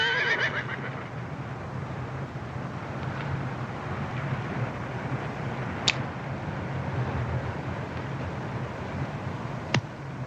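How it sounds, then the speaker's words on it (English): A horse whinnies close by in the opening second, then steady outdoor wind noise continues, broken by two sharp clicks later on. "Caballo."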